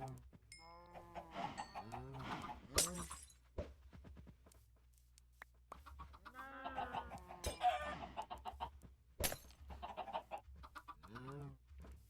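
Minecraft chickens cluck and squawk in repeated short bursts, several birds overlapping at close range with small gaps of quiet between calls.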